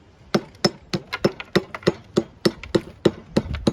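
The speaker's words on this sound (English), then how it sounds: "Now I'm gonna take my hammer and just chip it. Just lightly chip it." A hammer lightly chips stone for a DIY fireplace build, about a dozen crisp, sharp taps at a fairly steady pace, close and clear with no talking.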